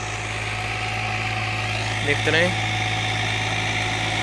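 A Massey Ferguson 245 tractor engine runs steadily while pulling a 9-tine cultivator, a constant mid-pitched drone with a brief bump partway through, heard under someone talking.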